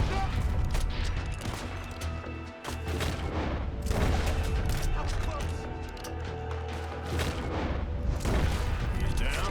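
Rifle gunfire in Red Dead Redemption 2 during a house shootout, with repeated sharp cracks and booms firing in irregular bursts over game ambience, loud and close throughout.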